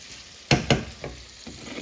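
A spoon stirs eggplant and potato curry in a pan, with a few distinct scraping strokes over a steady sizzle, close and fairly loud, with no talk.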